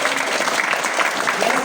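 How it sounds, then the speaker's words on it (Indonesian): An audience at a company motivational gathering claps in a dense, continuous burst of applause that lasts the whole short stretch at an even loudness. "Tepuk tangan."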